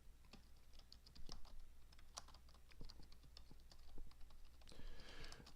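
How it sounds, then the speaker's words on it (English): Rapid keystrokes on a computer keyboard, typed during an online Magic: The Gathering match, arrive in irregular bursts of crisp clicks with short pauses, close and fairly quiet, with no voices. "I'm also typing this to the opponent"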